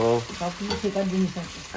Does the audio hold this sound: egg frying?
yes